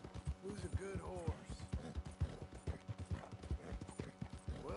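A horse's hooves clip-clop steadily at a walking pace in Red Dead Redemption 2, a moderate rhythmic thudding at middle distance, with someone talking over it.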